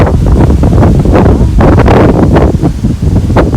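Strong gusts from Hurricane Ian in Florida roar loudly and continuously against the microphone, a dense, buffeting rush with surging peaks and no pauses.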